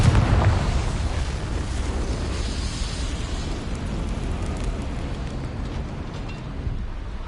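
A fiery Confringo spell blast in the Hogwarts Legacy game, a dense roaring explosion with a heavy low rumble that holds steady and loud throughout, no talking.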